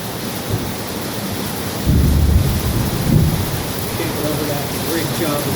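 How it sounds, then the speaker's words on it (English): Heavy rain pours steadily and loudly, with deep rumbling swells like distant thunder around the middle, heard from a sheltered spot during work on a vehicle's fuel system. "Boy, that rain is loud."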